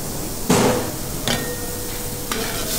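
A ladle of curd and gram flour kadhi poured into a pan of Rajasthani papad paneer curry, with a sharp ladle knock against the pan, a brief splash and two lighter clinks over a low sizzle.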